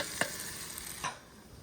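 Okra frying in a pan, a soft steady sizzle with a couple of brief scraping stir sounds near the start and middle, fading slightly toward the end.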